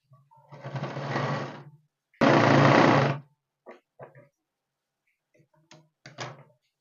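A sewing machine stitches the shoulder seam of a children's western top made from leftover fabric, running in two bursts of steady whirring, the second louder, followed by a few short clicks and brief stops.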